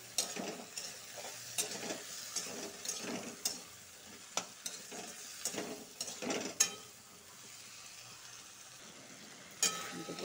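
Potato pieces with salt and turmeric fry in a pan for a pumpkin and soybean curry, a constant sizzle under repeated scraping strokes and metal clatter from stirring, close and without speech.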